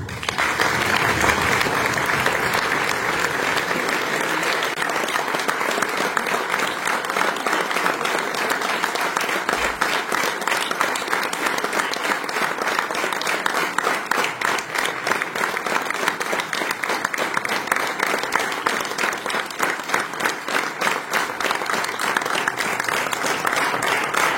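Sustained, dense applause from a standing audience at a football referee promotion ceremony, loud and steady throughout with crowd noise blended in.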